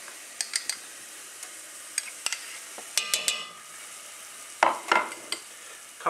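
A couple of spoonfuls of garlic fry in a pan on a stove for courgette and raisin chutney, a soft steady sizzle broken by sharp scraping stirs and clicks of a utensil against the pan, close and with no talking.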